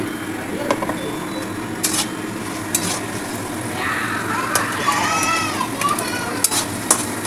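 Tomatoes frying in a pan for a Bengali mutton curry, a steady sizzle running throughout with occasional stirring clinks, while someone talks over it and children's voices sound in the background.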